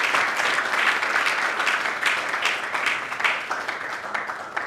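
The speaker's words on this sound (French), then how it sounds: "Est-ce qu'on peut applaudir pour l'artiste," An awards ceremony audience applauding an artist, a thick wash of crowd clapping in a large room, steady and continuous with slight swells, no clear speech over it.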